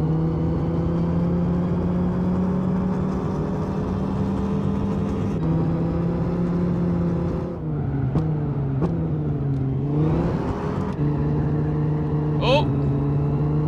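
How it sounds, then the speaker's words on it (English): Lamborghini Miura engine in the Gran Turismo 5 racing game, a steady droning hum with harmonic bands that dips and swells as the car shifts and accelerates, fairly loud and continuous, with a brief high chirp near the end. "Yeah, it is definitely a Lamborghini Miura behind us."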